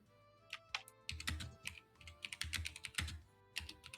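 Typing on a computer keyboard, bursts of quick close key clicks with short pauses between runs, quiet and alone with no talk.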